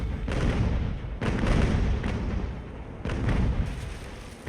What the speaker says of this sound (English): Let's put those cannons right in the middle.